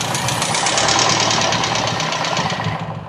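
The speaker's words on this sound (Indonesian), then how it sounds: "Kalau kurang bensin ini ditutup begini atau ditutup begini, ini putaran mesin jadi tambah enak." A Toyota Kijang carburetor engine idles close by, a steady broadband rumble with a low knocking pulse and hiss that keeps an even rhythm throughout, with no voices.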